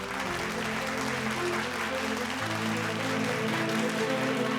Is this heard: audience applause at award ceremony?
yes